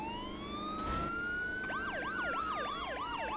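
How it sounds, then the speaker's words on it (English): Two overlapping vehicle sirens in the game Trailmakers: a long rising wail joined by a fast repeating yelp, both loud and close, with a brief noisy burst near the start. "Are you hearing that it's both sirens?"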